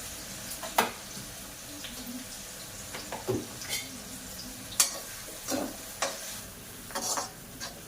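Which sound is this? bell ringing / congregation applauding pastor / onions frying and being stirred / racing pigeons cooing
onions frying and being stirred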